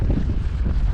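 Gusting wind of about 15 to 18 mph on the north Cornish coast, a loud continuous low rumble buffeting the microphone without a break.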